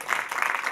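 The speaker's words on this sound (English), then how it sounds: "we're getting clapping for DNS issues" Audience applause at a tech conference session on Windows Subsystem for Linux, a short, steady wash of many hands clapping at moderate level throughout.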